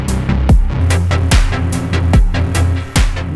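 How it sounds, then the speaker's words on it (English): Siren oscillator on a modular synth, its pitch, timbre and effects stepped by a 4MS Catalyst sequencer: a loud, throbbing electronic tone with sharp swooping bass sweeps and bright bursts recurring roughly every two-thirds of a second. "What you just heard was the parameters of the siren oscillator being manipulated"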